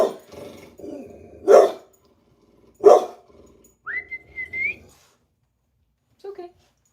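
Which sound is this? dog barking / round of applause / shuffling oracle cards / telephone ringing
dog barking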